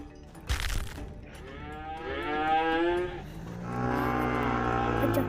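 Cows moo in a VR farm video game, long drawn-out lowing calls one after another, loud and close, preceded by a brief sharp crack.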